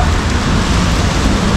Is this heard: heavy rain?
yes